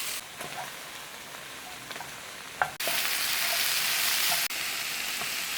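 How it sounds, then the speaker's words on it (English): Onions and mushrooms frying and being stirred in a pan for ground beef tacos, a steady bright sizzle with a few soft utensil scrapes, growing louder midway and dipping briefly near the end. "just stirring your onions and mushrooms"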